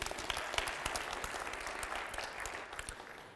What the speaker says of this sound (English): So big round of applause for you.